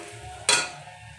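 Blended grated coconut hits hot oil in a kadai already tempered with chillies and five-spice, giving a single sudden sizzle that flares up loudly and then fades into a softer hiss.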